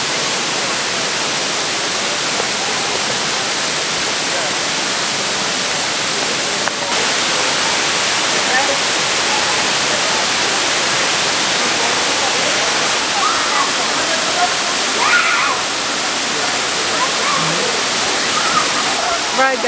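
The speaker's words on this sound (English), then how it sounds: "we made it to the first waterfall. I think this one is called Muddy Creek, right? Muddy Creek Falls?" Muddy Creek Falls pours in a loud, constant broadband roar on a rainy camping hike, close and unbroken for about twenty seconds.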